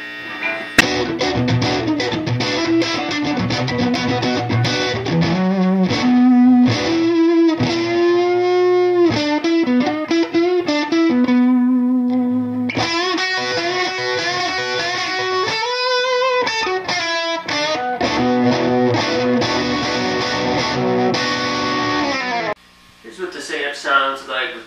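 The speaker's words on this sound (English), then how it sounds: "Here's what this amp sounds like without Yellow Jackets." Electric guitar through a tube amp running stock power tubes without converters, playing loud driven chords and sustained lead notes with heavy distortion and effects, steady and up close for most of the passage before a brief drop near the end.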